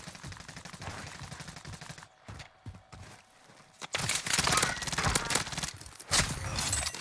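Rapid bursts of automatic gunfire in a first-person shooter video game, loud and dense. They stop briefly, then come back as sustained close fire.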